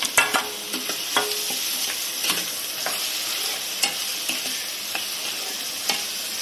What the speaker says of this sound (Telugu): ఇదిగోండి ఆనియన్స్ వేగుతున్నాయండి